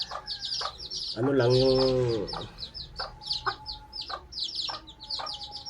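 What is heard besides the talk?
bantam hen clucking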